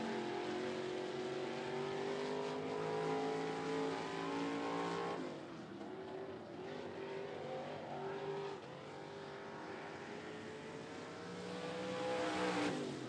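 A street stock race car runs on the oval track at 411 Motor Speedway, its engine roaring loudly with rising and falling pitch as it accelerates and passes, then fading slightly before surging again.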